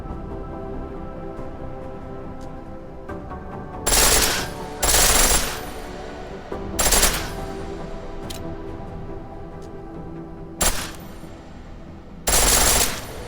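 A pistol fires on full auto in Deus Ex: Mankind Divided: about six short, loud bursts of rapid shots, separated by quieter stretches of low background game ambience.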